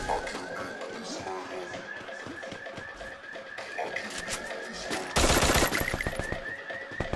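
Rapid Free Fire video game gunfire crackles in dense bursts over a busy, music-like game background, growing louder toward the end.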